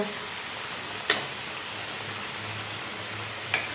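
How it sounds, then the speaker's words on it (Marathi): Spinach frying in a pan with red chili paste makes a faint, soft sizzle, broken by two sharp clicks of stirring, with no talk. "लाल चटणीला मस्त छान परतून घ्यायचं हलवून घ्यायचं"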